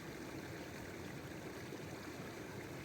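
A village stream that serves as the local water source and cattle drinking spot flows steadily, a constant broadband rushing and trickling with no pauses and no voices.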